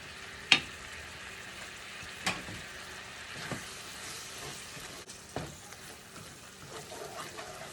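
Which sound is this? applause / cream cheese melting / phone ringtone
cream cheese melting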